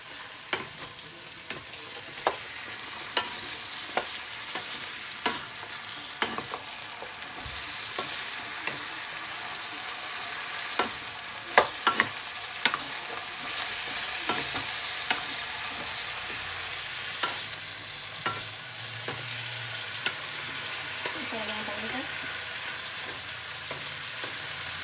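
Broccoli stir-frying with ginger and garlic in hot oil for beef broccoli, a steady close sizzle broken by frequent sharp clacks of a utensil against the pan throughout.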